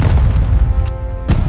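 Cannon fire in a Battle of Waterloo documentary soundtrack, a loud continuous rumbling barrage with two sharper booms cutting through, dense and heavy throughout.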